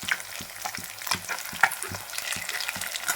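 Fish pieces frying in a little oil in a pan, a continuous crackling sizzle with scattered pops, overlaid by a soft regular pattern of light stirring or turning knocks, close and steady with no speech.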